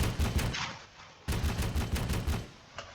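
Arma 3 video game 2A72 autocannon firing in two rapid bursts of loud, sharp repeated shots with a brief pause between, echoing off at the end.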